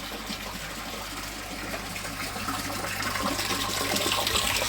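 Water pours steadily from a tap into a koi pond, a continuous broadband gush that swells slightly louder toward the end, heard alone without voices.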